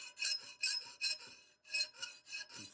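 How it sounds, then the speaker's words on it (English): A fine file smooths a metal part of a swivel breech rifle kit, rasping in regular back-and-forth strokes, about seven bright scrapes with a short pause midway, close and clear with no voices. "I have a fine file that I'm just going to use"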